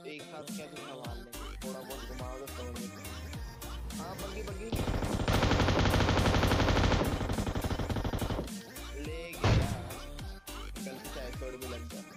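A gold M249 machine gun fires in PUBG Mobile, a long sustained automatic burst of several seconds, loud and steady, with scattered shots and a voice before and after.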